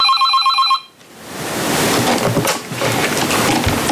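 A telephone at a confidential support helpline gives a short electronic warbling ring, then gives way to a broad noisy wash of room sound.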